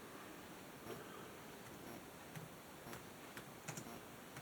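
Soft, sparse keystrokes on a computer keyboard while entering a network switch configuration command, faint scattered clicks over a quiet room hiss.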